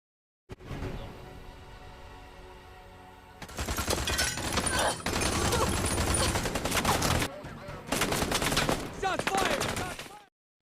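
Gunfire in a film scene as a SWAT team trades shots with a fugitive: loud bursts of rapid shots and fusillades in several clusters, with brief pauses between, after a stretch of tense background score.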